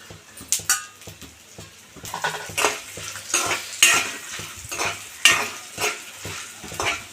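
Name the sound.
frying dried red chillies and spices in oil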